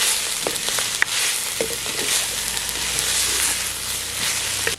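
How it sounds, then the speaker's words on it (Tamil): Moringa leaves and pungai flowers sauté in a pan for a stir-fry, giving a loud, continuous close-up sizzle with a few light stirring scrapes and no voices. "முருங்கைக்கீரையும் குங்கம்பூவும் நல்லா வதங்கிடுச்சு"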